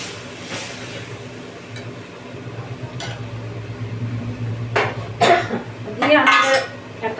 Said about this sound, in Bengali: থালা চাপা দিয়ে দিচ্ছি।